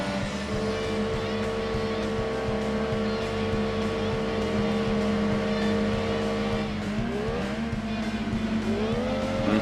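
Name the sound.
race car engines in Gran Turismo 2 video game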